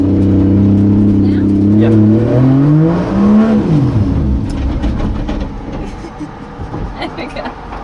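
A 2JZ-swapped Nissan 240SX drift car idles loudly, then its engine revs up in a rising pitch sweep and drops back down, heard close from inside the car while people talk briefly.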